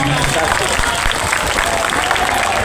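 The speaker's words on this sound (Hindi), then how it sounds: "जोरदार तालियां 85" Dense crowd applause at a sanitation workers' union rally, loud and steady across the whole stretch, with voices mixed into the noise.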